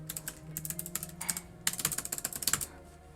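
Rapid typing on a computer keyboard while writing LaTeX in the Vim editor, a dense run of close, crisp key clicks with a brief pause midway before a faster burst.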